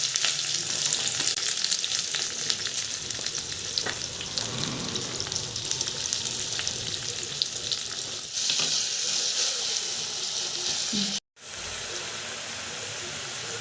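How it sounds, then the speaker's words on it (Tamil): Chopped onions and curry leaves sizzle steadily in a hot pan for a crab fry, a dense continuous frying hiss with faint stirring scrapes and a brief cut near the end. "இப்போ நம்ம பொடியாக நறுக்கி வச்ச வெங்காயம் சேர்த்துக்கலாம்."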